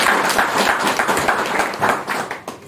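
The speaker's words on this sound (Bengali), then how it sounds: "আর নেটসাপের জন্য একবার জোরে হাততালি হওয়া উচিত।" Audience clapping at a direct selling business talk, a dense burst of hands that swells and then thins out toward the end, close and fairly loud.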